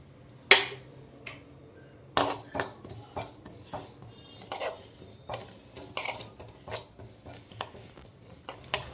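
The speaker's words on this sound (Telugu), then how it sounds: "ప్యాన్ వేడైన తర్వాత 3 టేబుల్ స్పూన్స్ నువ్వులు వేసుకోవాలండి." Sesame seeds roasting in a hot pan, heard mostly as a spoon scraping and clinking against the pan in irregular stirring strokes, with a faint dry crackle beneath and no talk.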